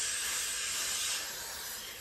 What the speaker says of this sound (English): Am I supposed to spray that much?